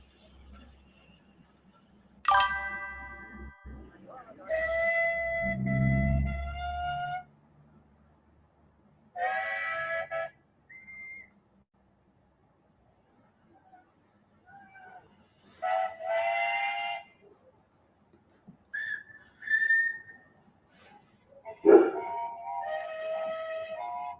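Whistles at a national rally sound in a series of tonal, harmonic blasts, some long and some short, separated by quiet gaps and heard at moderate distance.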